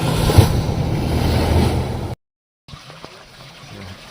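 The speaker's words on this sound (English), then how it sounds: "fishing boat going past" A fishing boat passing at sea, heard as steady wind-buffeted wave and engine wash close to the microphone, cutting out briefly before a quieter stretch of water and wind resumes.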